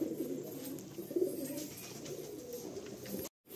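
Black breeder pigeons kept for sale in Kolkata coo steadily in low, throaty rolling calls, close and continuous over a faint background hum, cutting off briefly near the end.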